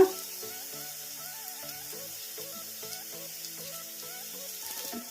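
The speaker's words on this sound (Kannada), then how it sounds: "ಈಗ ಇವೆಲ್ಲ ಮೆತ್ತಗ ಫ್ರೈ ಆಗೋವರೆಗೂ ಫ್ರೈ ಮಾಡ್ಕೊಂಬಿಡೋಣ" Chopped tomatoes and garlic fry in a pan with a steady, soft sizzle that runs without a break. Faint background music sits over it, and there is no talk.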